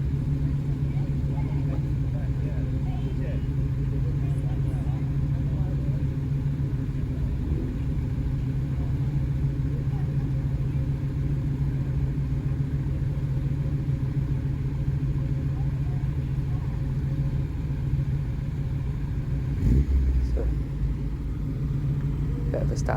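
Classic cars, among them a Mark 1 Triumph Spitfire, a BMW convertible and an early-1960s Chevrolet Corvette, rumble at the Goodwood Breakfast Club. The steady low engine drone continues throughout, with a brief louder swell near the end.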